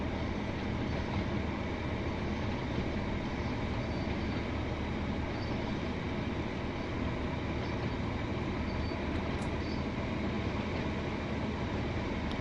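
A train in the West Cornwall route of Train Sim World 3 runs with a steady, continuous rumble and rolling noise, an even drone throughout with no pauses.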